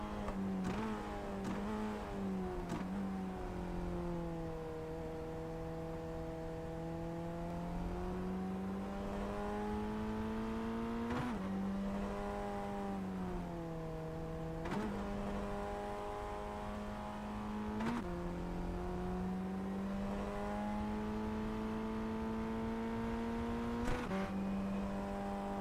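A Formula Ford 1600 race car on track at Okayama, its engine heard from onboard with a steady, buzzing drone that rises through each gear and drops sharply at every upshift, repeating through the laps.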